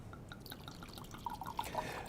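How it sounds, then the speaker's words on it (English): Wine poured into a glass, a small four-to-six-ounce serving: soft liquid trickling and dripping with a few brighter splashes toward the end, close and faint, with no talk. "a 4 to 6 ounce is not a big pour. It looks something like this."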